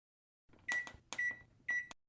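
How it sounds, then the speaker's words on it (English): Three short electronic beeps from an oven signalling it has preheated sound at an even pace, clear and close, with silence around them. "The beep, beep, beep of their new oven told her that it was now hot enough"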